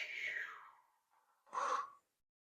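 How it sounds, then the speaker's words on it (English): A person breathes close to the microphone in a calm, quiet setting: one long airy breath, a brief pause, then a second shorter, fuller breath before silence. "Take a big breath into your heart center"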